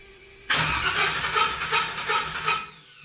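The engine of an LS-swapped Chevrolet S-10 pickup cranks and fires abruptly, then runs loud and close for a couple of seconds with a rough, pulsing note before settling. No one speaks.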